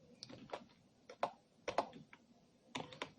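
Typing on a computer keyboard: light keystrokes land in small clusters with pauses between, close and fairly soft with no talk.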